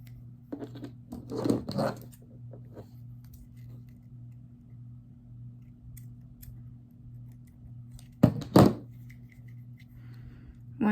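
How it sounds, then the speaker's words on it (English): Scissors snip through cords to trim them to matching lengths, a couple of short crisp cuts near the start and another pair toward the end, close and fairly quiet over a steady low hum. "I want to cut them about fairly the same length"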